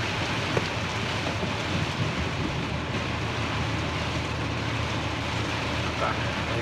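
Steady heavy rain drums on a car during a drive in southern Thailand, a dense, constant hiss with faint thumps of thunder underneath.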